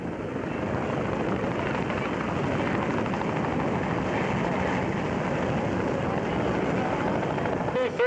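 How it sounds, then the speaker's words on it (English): A Boeing Vertol CH-113 Labrador search and rescue helicopter flying a display at the 1990 Comox air show, its steady, loud rotor and engine roar continuous throughout. "as they just corkscrew that Boeing Vertol Labrador to complete their performance for you today."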